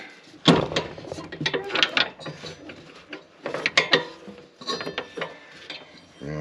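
A deck belt is worked around the pulleys of a Bad Boy zero-turn mower, giving close, irregular metallic clanks, clicks and rattles in uneven clusters.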